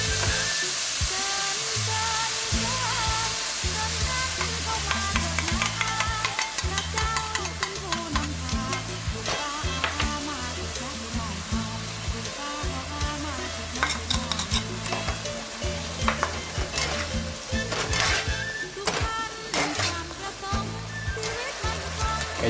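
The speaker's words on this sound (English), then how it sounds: "And you want to fry them for 1 minute." Pork pieces sizzle loudly in a hot pan while being stirred, a continuous crackling fry with scraping and clattering stir strokes throughout.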